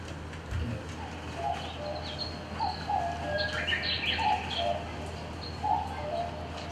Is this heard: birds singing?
yes